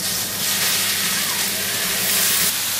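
One kilo of grated carrots dropped into hot ghee in a pan for gaajar ka halwa, giving a loud, continuous, close sizzling hiss that barely varies in level.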